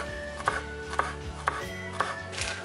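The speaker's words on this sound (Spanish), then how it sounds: "los cuatro ajitos los vamos a picar lo más menudito que se pueda" Four garlic cloves are finely chopped with a knife on a cutting board, giving four evenly spaced, sharp taps about half a second apart over a low, steady kitchen hum, with no talking.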